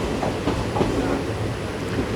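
Unreserved second class coach of the 56603 Coimbatore–Shoranur passenger train rolls steadily on the rails into a station, a continuous near rumble with faint wheel clatter throughout.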